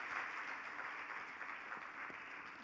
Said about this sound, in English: That I have to clap for.